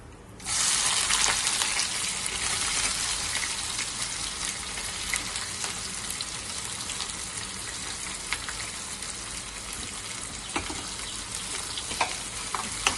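Onions fry steadily in hot oil for a mango and fish curry, a loud continuous sizzle starting after a brief quiet moment, with occasional small pops and stirring clicks throughout.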